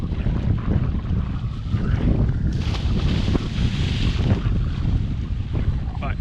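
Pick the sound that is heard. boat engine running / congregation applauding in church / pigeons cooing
boat engine running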